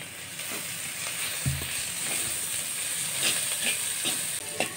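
Onion, chili and other kara chutney ingredients sauté with salt in a hot pan, giving a constant, close hissing sizzle with occasional soft stirring taps.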